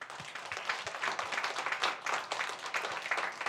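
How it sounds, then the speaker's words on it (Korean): Applause from a church congregation during a sermon, a steady wash of many hands clapping at a moderate distance with no voices over it. "박수 한번 쳐줘요."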